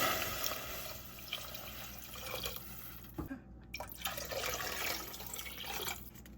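Water poured into a cooking pot in a home kitchen, a steady splashing and running-water wash with a few drips, close and continuous for several seconds with a brief break midway.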